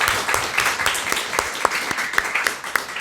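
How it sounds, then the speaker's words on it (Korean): A church congregation applauds during a Sunday worship service, a loud, close, continuous patter of many hands clapping with some sharper individual claps standing out. "우리 함께 찬양으로 박수로 영광을 돌려드리도록 하겠습니다."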